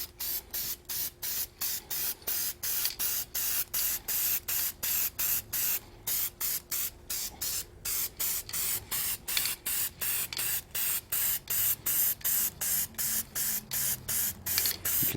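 A spray paint can lays a light touch-up coat on a Yoder smoker, sounding as a long run of rapid, evenly pulsed hissing bursts close to the mic, continuous for about fifteen seconds without talk.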